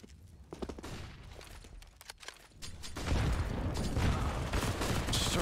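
Gunfire in a Counter-Strike match on Inferno, sparse shots early giving way to a dense, loud burst of rapid firing that fills the second half.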